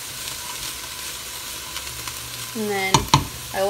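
Onion and garlic sizzle steadily in a pan for turkey chili, with a utensil stirring underneath. Near the end a voice briefly speaks and a couple of sharp clanks ring out.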